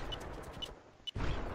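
Laser rifle shots in the browser shooter EV.IO, three sharp electronic zaps spaced about half a second apart over a low game background hum, with a louder burst of game noise at the end.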